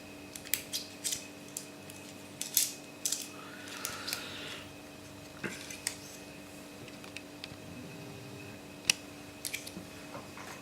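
A hobby knife trims parts of a 3D printed Kerr Stuart Wren locomotive kit, making a series of sharp, close clicks and scraping snips spread irregularly over a quiet room with a steady faint hum.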